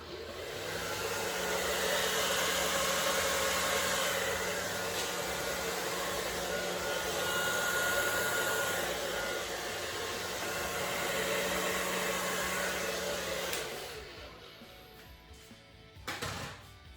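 A hair dryer set to cold air on low blows steadily up close, a constant airy whoosh with a faint motor hum, used over a poured acrylic painting; it is switched off near the end, leaving a few quiet handling sounds.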